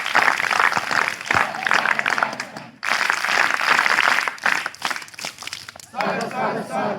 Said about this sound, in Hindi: एक बार स्वागत ताली इसके लिए बजाइए।